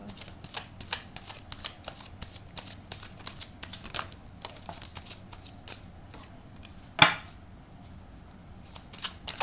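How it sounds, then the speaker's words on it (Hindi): Tarot cards shuffled close by in a quiet room, a run of quick soft riffling flicks and slides with one sharper snap near the end. "आइए कार्ड शफल कर लेते हैं आपके लिए।"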